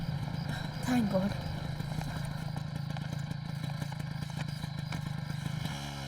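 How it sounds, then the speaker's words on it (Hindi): Motorcycle engine rumbling steadily at close range during a ride, a continuous low drone with clattering, a brief voice near the start. "बाइक रोको।"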